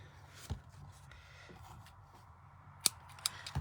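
Scissors trimming paper or card pieces for a gift-bag craft project, a few quiet isolated snips spread out against a faint room hush, with no talking.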